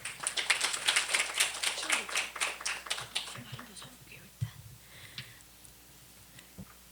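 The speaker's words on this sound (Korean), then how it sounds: "큰 박수로 모시겠습니다." Audience clapping at a traditional performing arts symposium as a presenter is welcomed, dense and fairly close for about three seconds, then thinning to scattered claps and faint murmuring.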